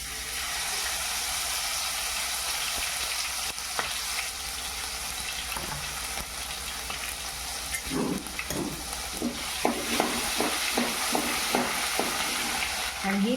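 Cinnamon, cloves, bay leaf and chilli paste sizzle in hot oil in a pan, a steady close frying hiss. A spoon scrapes and stirs in a quick run of clicks near the end.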